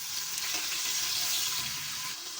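Onions hitting a pan of hot oil for a rice dish, giving a steady, dense sizzle that holds evenly at close range throughout, with no voices over it.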